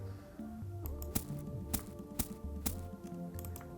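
Shortened plastic bag sample used as a hi-hat: crisp, short ticks land at an even pace over a quiet electronic beat with soft bass notes.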